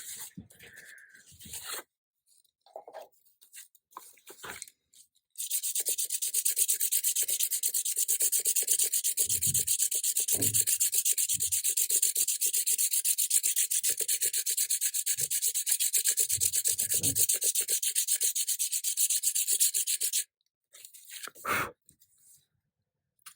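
A crayon rubbed over a textured rubbing plate, a continuous dry scratchy rasp lasting about fifteen seconds, close and fairly loud, framed by brief handling noises before and after.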